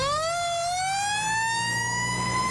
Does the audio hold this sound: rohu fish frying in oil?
no